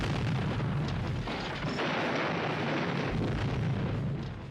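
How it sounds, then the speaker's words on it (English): A dense, rumbling blast of noise, like a big explosion with debris roar, sustained and loud throughout without any voices. "We have to have an explosion."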